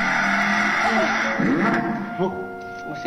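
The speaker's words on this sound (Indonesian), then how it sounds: "mesin V8. Tapi V8 yang cukup modern. Jaguar F-Type." A modern V8 engine in a Jaguar F-Type roars steadily at high revs, loud and close, with the pitch shifting as it climbs and settles, while a voice talks faintly underneath.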